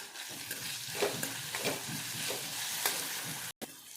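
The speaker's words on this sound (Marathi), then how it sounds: "हे दोन टमाटर आपण याच्यात टाकून घेणार आहोत आणि हे पण आपल्याला छानपैकी ते शिजून घ्यायचे" Chopped tomatoes hiss and sizzle in a pan with onions while being stirred, a steady close frying sound with soft scraping strokes and a brief dropout near the end.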